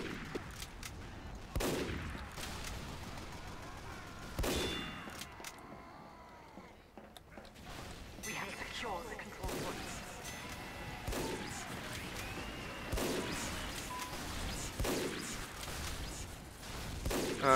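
Repeated gunfire bursts from Team Fortress 2 gameplay, sharp blasts and crashes recurring every second or two over a busy, steady layer of game noise.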